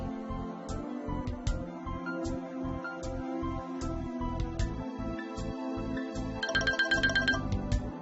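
A mobile phone rings with a repeating electronic ringtone melody for an incoming welcome call from Airtel Payments Bank, steady and moderately close, with a brighter chiming passage near the end.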